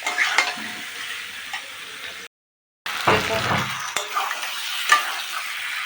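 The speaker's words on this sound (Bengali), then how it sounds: "এবার এইগুলো দিয়ে ভালো করে সুন্দর করে কষে নিতে হবে।" Soaked chana dal and spices sizzle and fry in a pan while being stirred, a steady crackling hiss broken by scraping strokes, with a brief gap of silence partway through.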